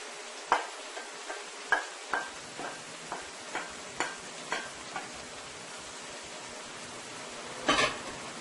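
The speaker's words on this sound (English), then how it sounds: "I am going to go ahead and add the shrimp now to my eggplant." Cooked shrimp tipped into a pot of Guyanese eggplant stew and tossed, a soft low sizzle broken by a regular series of light spoon taps and scrapes against the pot, with a louder scrape near the end.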